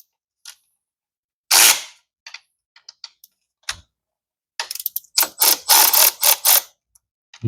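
Clutch pressure plate bolts on a Harley twin cam 110 being loosened with a ratchet, giving scattered clicks and short bursts of rapid ratcheting, then a dense run of loud ratchet strokes near the end.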